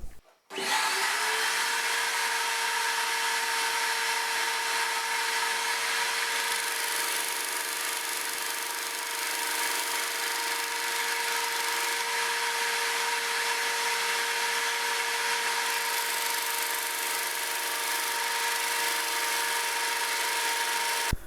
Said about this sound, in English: let's get this to the disc sander